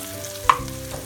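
Spoon stirring ground mustard into spices frying in oil for Indian apple pickle: a steady low sizzle with a single sharp scrape of the spoon midway.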